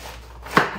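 A single knife chop through cooked food onto a cutting board, one short close thud-click in a quiet room.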